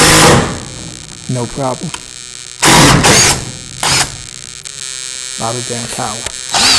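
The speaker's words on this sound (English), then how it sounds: "you can shoot these drywall screws in all day long" A cordless impact driver sinks drywall screws into wood, firing off several loud, short bursts of rattling hammering between stretches of quiet hum, with someone talking briefly between runs.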